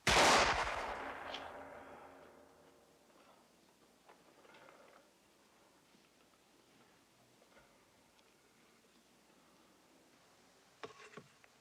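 A rifle volley from a firing squad cracks out in one loud, booming burst that rings and fades over a couple of seconds, leaving quiet room tone with a few faint clicks near the end.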